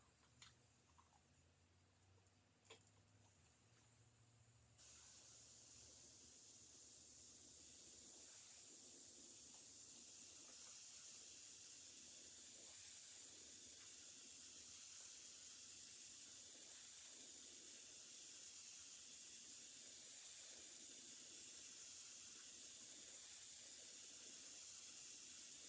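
Paint sprays from a spray gun onto a fishing lure in a long, steady airy hiss that starts after a few seconds of quiet handling clicks and continues evenly, close by.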